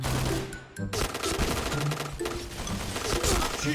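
Rapid automatic gunfire from the shooter game Point Blank rattles in dense, continuous bursts, loud and close, with a short break near the start, as a voice talks faintly underneath.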